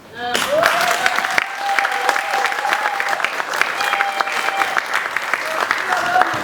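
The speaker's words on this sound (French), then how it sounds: "demander les derniers applaudissements pour Philippe Claus" Crowd in Brussels applauding Philippe Claus at a Congolese community gathering, loud, continuous clapping that swells in and holds steady, with voices and cheers rising through it.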